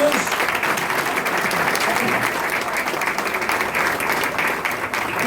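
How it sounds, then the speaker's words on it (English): Audience at a stage hypnosis show breaks into a full round of applause, many hands clapping loudly and steadily throughout, with a few voices faintly mixed in. "Let's give everyone a nice round of applause."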